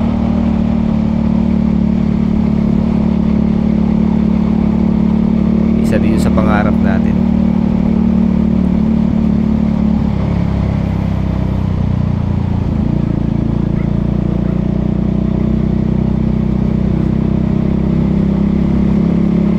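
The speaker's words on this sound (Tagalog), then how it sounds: "Ito pa rin talaga tunog ng inline 4." An inline-four motorcycle engine drones steadily and loudly throughout, its low hum shifting slightly in pitch midway, while someone speaks briefly over it.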